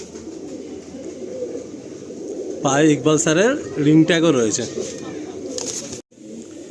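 Pigeons in a loft at Ranihati coo in soft, repeated low calls close by, while someone talks over them.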